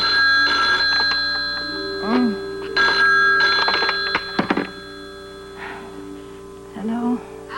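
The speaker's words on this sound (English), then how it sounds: "It's ringing, but she's not answering." Repeated telephone ringing in regular bursts, clear and close, with a voice speaking between rings.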